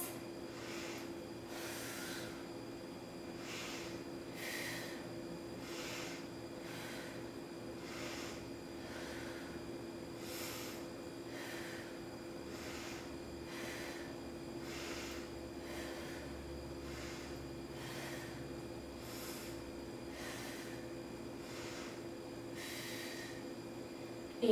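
Slow rhythmic breaths during a held yoga pose, roughly ten inhale-exhale cycles evenly spaced under a steady background hum, soft and close with no talking.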